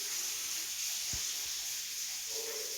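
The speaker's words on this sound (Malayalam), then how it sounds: "ആ എണ്ണയിൽ തന്നെ ഇനി കുറച്ച് കറിവേപ്പില ഞാൻ ഇട്ട് കൊടുക്കുന്നുണ്ട്. അതുകൂടി നമുക്ക് വറുത്ത് കോരിയെടുക്കാം" Curry leaves fry in hot oil for an egg mixture snack, giving a faint, steady hiss and sizzle throughout with a couple of soft clinks.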